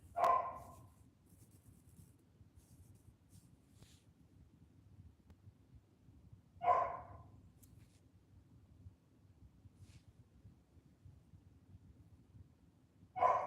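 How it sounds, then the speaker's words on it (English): A dog barks in the background of a quiet room, giving three single muffled barks spaced several seconds apart. "That's just my dog barking."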